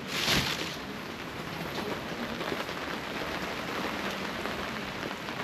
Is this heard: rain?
yes